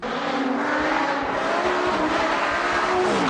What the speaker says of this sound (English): someone seems to have taken the baffles out of the exhaust because you can hear it about 400 miles away